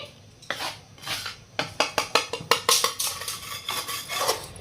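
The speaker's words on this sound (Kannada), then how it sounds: "ಈಗ ನೋಡ್ರಿ ತುಪ್ಪದ ಜೊತೆ ಈ ತರ ಪೂರ್ತಿ ಮಿಕ್ಸ್ ಮಾಡ್ಕೊಂಡ್ರಿ" Gram flour being stirred into ghee in a pan over a low gas flame, a quick run of scraping clinks as a spoon strikes the metal pan, then softer scraping, close up with no voices.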